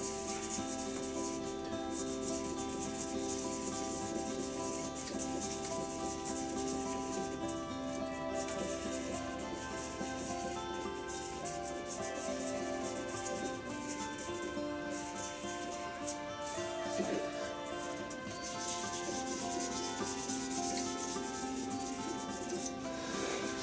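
Sandpaper rubbed against a wooden shaving brush handle gives a soft, continuous rasping scrub that goes on for over twenty seconds at a low, even level, with no talking.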